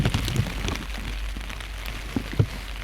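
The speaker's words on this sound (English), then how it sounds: "It has been raining without stopping all morning" Steady rain falls on a morning that has seen nonstop rain, giving a soft, continuous patter with a few louder close drops hitting nearby surfaces.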